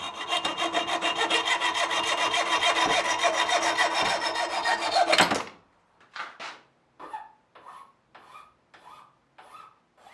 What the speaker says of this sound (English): I'll just saw off a couple of pieces, a hair longer than the thickness of the handle.